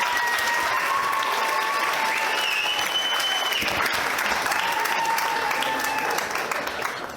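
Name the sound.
wedding guests applauding after a speech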